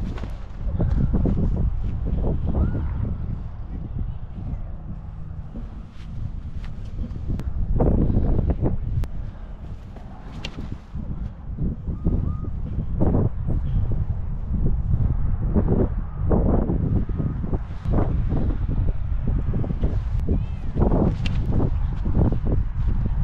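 A strong headwind buffets the microphone outdoors during a disc golf throwing session, with a steady low roar and gusty surges lasting the whole stretch, loud and close, no talking.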